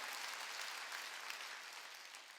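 A church congregation claps during a worship service, a soft, distant, continuous patter of many hands that slowly fades.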